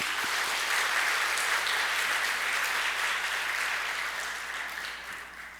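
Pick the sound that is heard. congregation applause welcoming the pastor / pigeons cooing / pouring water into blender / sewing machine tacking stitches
congregation applause welcoming the pastor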